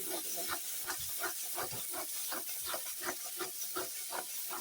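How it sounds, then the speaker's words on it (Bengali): Potato and pointed gourd curry with green chilli fries in a pan, giving a loud, steady sizzling hiss broken by quick rhythmic pulses, as if being stirred, with no voices. "এখন ভালো করে আস্তে আস্তে ভেজে নিই"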